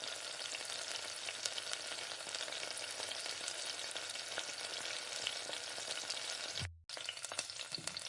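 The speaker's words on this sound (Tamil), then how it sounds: "உப்பு போட்டு நல்லா வதக்கிக்கோங்க." Tomatoes with salt sautéing in a pan for chicken biryani, a dense continuous sizzle with scraping stirs that drops out briefly near the end before resuming, close and steady, no voices.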